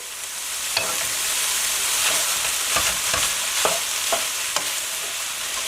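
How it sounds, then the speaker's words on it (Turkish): Onions and peppers sizzle steadily in a frying pan, with occasional clicks and scrapes as they are stirred. The hiss stays close and constant, and no one speaks. "Soğanlarımızı da biraz kavurduktan sonra biberleri ilave edelim."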